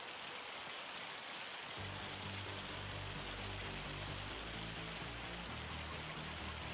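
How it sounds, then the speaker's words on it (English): Hail falling in Farming Simulator 25, a dense steady patter like heavy rain on a surface, constant and enveloping, joined partway through by a low droning hum underneath. "This hail is base game."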